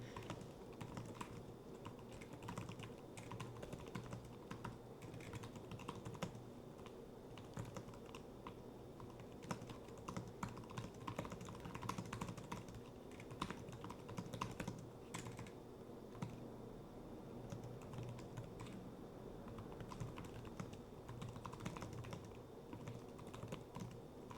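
Quiet, continuous typing on a Lenovo ThinkPad P series laptop keyboard, with rapid soft clicks and occasional sharper key taps, close up and without voices.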